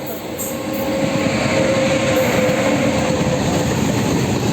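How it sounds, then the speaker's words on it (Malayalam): A heavy freight train rumbles past nearby, a loud continuous roar of rolling wheels with a faint metallic squeal, no voices heard. "ചരക്ക് വണ്ടിയാണ്"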